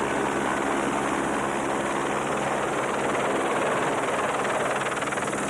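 Steady, continuous rotor and engine drone of a helicopter, loud and unbroken throughout, with no voices.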